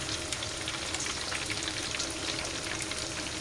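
Small tuna pastel snacks wrapped in wonton skins fry in hot oil, giving a steady, close, even sizzle with dense crackling bubbles throughout and no talking.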